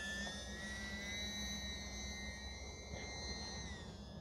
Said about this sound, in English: That looks like a ball of light, the plane going through the fog.